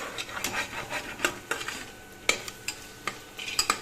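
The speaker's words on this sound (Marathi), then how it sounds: "याच्यात मी घालणार आहे आता पनीर ते आपण फ्राय करून ठेवलं होतं त्याला छान हलवून घ्यायचं" Fried paneer stirred into sizzling masala with oil for spinach paneer pulao: a light continuous fry under frequent quick spatula scrapes and metallic taps on the pan, close, with no talking.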